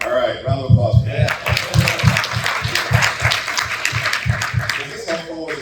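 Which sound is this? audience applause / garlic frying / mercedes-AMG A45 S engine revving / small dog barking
audience applause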